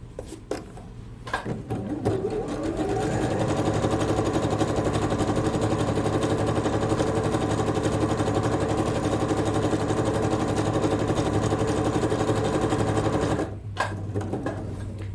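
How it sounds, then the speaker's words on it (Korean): A sewing machine stitches fabric with its longest stitch length and no backstitching, running in a fast, steady mechanical whir for about ten seconds before stopping, with quieter handling sounds before and after. "재봉 틀에서 땀수 가장 크게 바꿔주시고 되돌아박기 하지 마시고 시접 안에서 박음질을 하겠습니다"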